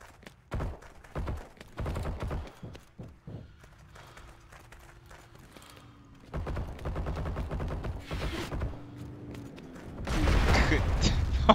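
Gunfire in the World War II shooter Heroes & Generals: a run of sharp shots early, then a humming engine-like drone and further bursts of firing, ending in a loud close volley, with people talking in German throughout.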